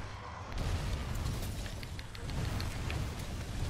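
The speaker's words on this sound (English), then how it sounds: "Oh look, Slinger Bomb." A Slinger Bomb goes off in Monster Hunter World: Iceborne, a dense low rumbling blast that swells after a quiet start and keeps rolling with crackling debris for several seconds.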